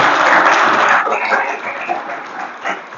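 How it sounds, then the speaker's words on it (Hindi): An audience applauds loudly and steadily at a school NSS programme. The clapping stays dense for about a second, then thins and fades over the next two seconds. "ताली बजाओ इनके लिए जो बोल रहे हैं।"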